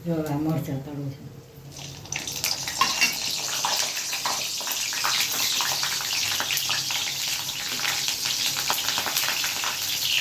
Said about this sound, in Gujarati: જો આ મરચાં તળું છે.